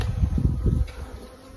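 Honeybees buzzing loudly and close during installation of a bee package into a hive, a dense low hum that eases off near the end, no talk.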